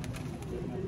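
Soft, low cooing of an old Sialkoti-breed rooftop pigeon, faint and close, in a brief burst with a slight hiss behind it.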